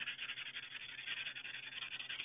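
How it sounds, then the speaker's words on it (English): Fine sandpaper rubbed back and forth over the shaped claw of an SA Sports Crusader recurve crossbow, a close, even, rhythmic hiss of quick strokes with no voices. "use that fine sandpaper to really polish out any file marks you may have put in there while shaping it"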